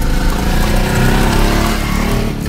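A car's engine pulls loudly and steadily up a winding hill road after a downshift from third to second gear, a close, continuous mid-pitched drone with slight revving and no talk.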